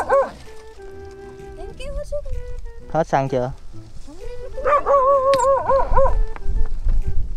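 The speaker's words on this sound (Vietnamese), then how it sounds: "Sủa hoài cái con này." A dog barks repeatedly beside a rural road near a motorbike that has run out of fuel, its sharp yelping calls rising over nearby people talking and background noise.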